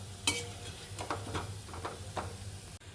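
Anandu naru sweets fry in oil while being stirred, giving a faint, steady sizzle with several soft scrapes and taps of the spoon against the pan.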